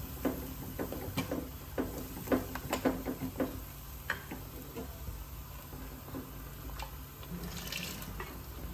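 Water from a mixer jar is poured into a cooking pot of prawn curry with drumsticks, raw banana and green mango. Quiet, close trickles and splashes come in several short bursts, then fade to a faint, steady pour with no talking.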